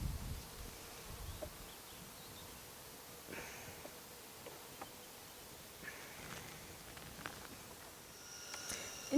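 Honeybees buzzing faintly around an open hive as a mid frame from the upper super is inspected, a soft continuous drone with light rustling and occasional closer passes.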